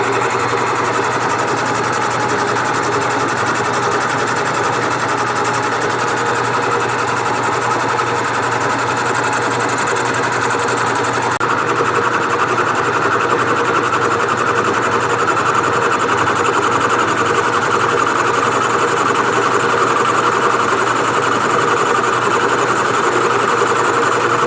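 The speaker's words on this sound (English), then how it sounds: "We'll just go through it another pass and let it clean that bore up" A boring bar makes a cleanup pass inside a bore on a John Deere 820 tractor part. The cutting gives a steady, loud machining whir that runs continuously and grows slightly louder partway through, with no voices.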